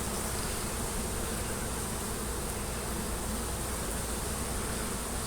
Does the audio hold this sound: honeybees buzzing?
yes